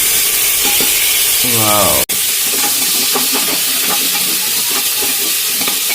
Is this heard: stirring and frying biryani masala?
yes